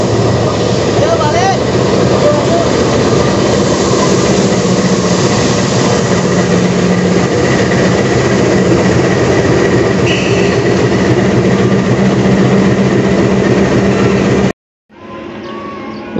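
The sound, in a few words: Serayu passenger train running on rails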